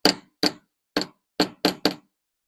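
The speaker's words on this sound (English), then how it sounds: "And you just keep hammering like this" Six crisp metallic strikes of a tracing hammer flattening a wire jewelry link on a bench block, close and fairly loud, spaced in an uneven rhythm with the last three coming quickly.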